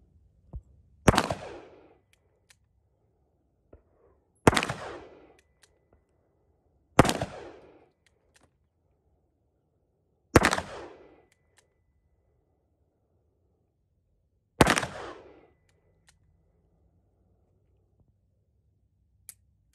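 Five loud, sharp gunshots from a Smith & Wesson 686 .357 Magnum revolver fired at a shooting range, spaced a few seconds apart, each with a short ringing decay into near silence.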